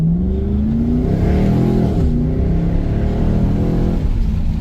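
A Chevrolet SS engine with fully stock exhaust revs up and settles, its pitch rising and falling in a loud, steady idle rumble close by.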